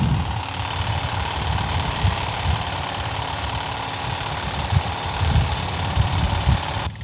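A quad bike engine runs steadily at close range, a low, pulsing idle with uneven thumps, heard alone without talk in a village setting.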